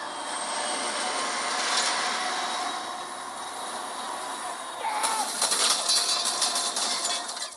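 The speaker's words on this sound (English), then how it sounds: "The train comes along." A runaway freight train rolls along the rails in the film Unstoppable, a loud continuous rumble with high metallic wheel squeal and clatter that grows harsher partway through.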